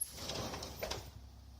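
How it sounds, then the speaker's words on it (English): A sliding door is pulled open close by, giving a soft rolling, rumbling slide that lasts under a second and then fades to quiet room hush. "look when I open this door, and it's going to happen instantaneous"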